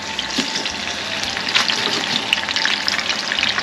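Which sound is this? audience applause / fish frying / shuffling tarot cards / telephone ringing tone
fish frying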